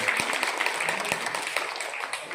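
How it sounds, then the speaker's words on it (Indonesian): A short, moderate patter of clapping rises from an audience giving a hand to Indonesia's food and drug agency, Badan POM, with a few sharper individual claps standing out against the scattered applause. "Tepuk tangan buat Badan POM."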